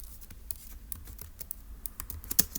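Notes being typed on a computer keyboard, a quiet, close run of light, irregular key clicks with small pauses and no talking.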